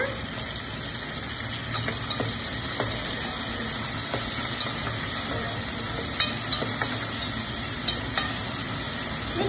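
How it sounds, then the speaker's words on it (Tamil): Curry leaves and ginger garlic paste frying in hot oil for a vegetable-free idli kurma, a steady close sizzle with spoon scrapes and small crackles throughout. "அடுத்தது கருவேப்பிலை ஆட் பண்ணிக்கோங்க அதுக்கு அடுத்தது இஞ்சி பூண்டு பேஸ்ட் ஆட் பண்ணிக்கோங்க"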